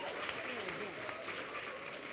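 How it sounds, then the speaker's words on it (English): An audience at a dance fundraising gala in Wilmington gives steady, sustained applause that fills the room, with a voice talking over the clapping. "So give them another round of applause."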